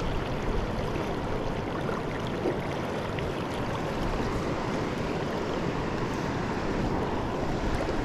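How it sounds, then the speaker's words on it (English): Fast pocket water rushes through a stream past rocks in a steady, dense broadband wash that holds an even level throughout, with no voices. "This pocket water is moving quicker than it looks."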